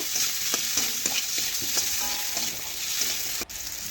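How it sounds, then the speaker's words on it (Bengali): Boiled potatoes fry with turmeric in hot oil while being stirred, giving a loud, steady sizzle broken by regular scraping stirs close up, with no voices. "এই দেখুন হলুদ দিয়ে নাড়াচাড়া করে একটু আলুগুলো আমি ভেজে নেব।"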